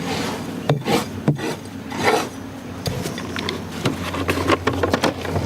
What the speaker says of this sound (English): remove the wood shavings